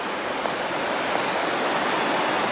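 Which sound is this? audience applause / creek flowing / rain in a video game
creek flowing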